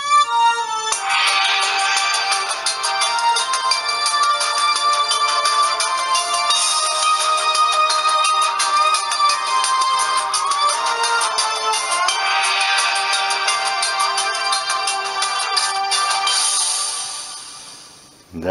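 An alarm ringtone melody plays from a Sony Ericsson Z710i mobile phone, a continuous loud electronic tune lasting about eighteen seconds before cutting off, with no talking.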